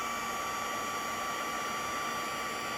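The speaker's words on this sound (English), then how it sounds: "I'm just gonna heat it until it's melted" A heat gun blows with a steady, even hiss and whoosh, close and constant, as it melts heat-and-stick embossing powder.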